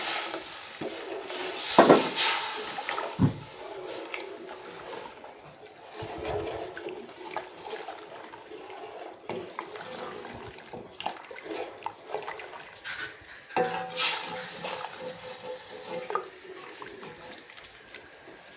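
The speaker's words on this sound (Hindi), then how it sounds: "ये चाश को डाल देंगे।" Sugar syrup poured slowly into semolina halwa in a pan, giving soft watery splashing and liquid sizzle with a couple of louder bursts, steady and close throughout.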